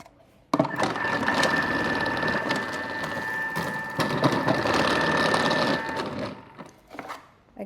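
An electric kitchen slicer on thick mode cuts a peeled, pitted avocado into 4 mm slices, its motor whirring steadily for about five seconds before stopping, followed by light handling noises.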